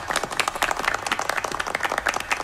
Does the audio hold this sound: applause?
yes